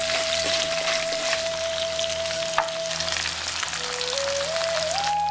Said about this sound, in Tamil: இதெல்லாம் சேர்த்து எண்ணெயில நல்லா வறுத்துட்டு 200 கிராம் நறுக்குன பெரிய வெங்காயத்தை